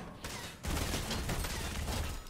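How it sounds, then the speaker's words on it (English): SMG fire in Fortnite: a dense, continuous burst of rapid shots that starts after a brief lead-in and carries on steadily for about two seconds, with no voices over it. "doing a little SMG damage right off the bat"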